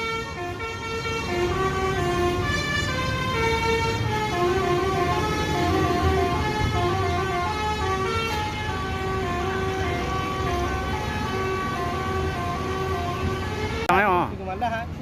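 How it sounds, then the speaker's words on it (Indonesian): An Indonesian NPM passenger bus plays its telolet musical horn, a long, loud run of bright, stepping melodic toots that continues for many seconds, with a brief warbling flourish near the end. "Ini udah bus yang ketiga dengan full telolet."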